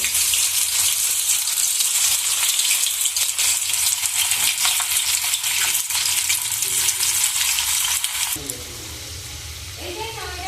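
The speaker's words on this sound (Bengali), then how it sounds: "ভাজার জন্য তেলও গরম করতে দিয়ে দিয়েছি গরম হয়ে গেছে এবার কি ভাজতে দিয়ে দেবো" Pieces of homemade dough snack deep-frying in hot oil give a loud, steady crackling sizzle that fills the whole span, then eases to a quieter, softer bubbling near the end.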